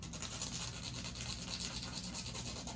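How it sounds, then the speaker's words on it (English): Sandpaper rubs back and forth on a short piece of copper wire cut for earrings, a quiet, close, steady scratchy hiss with no voices. "I'm going to take my sandpaper. I'm going to sand this down."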